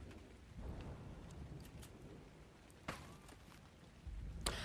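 Rain and thunder in the video game Ark Survival Ascended, set on the Ragnarok map: a faint continuous rain hiss with a couple of sharp thunder cracks and a low rumble swelling near the end.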